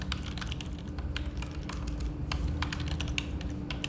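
Steady rapid typing on a computer keyboard while entering Flutter code for a Google login, dense overlapping key clicks over a low constant hum, close and moderately loud, no talking.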